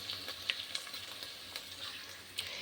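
Tomatoes sizzle in a pan of okra curry with prawns and egg, a steady faint frying hiss with a few soft clicks and stirring taps, no voices.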